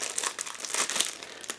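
Continuous crisp crinkling of a plastic bag holding plastic model-kit sprues being handled up close, with no talking.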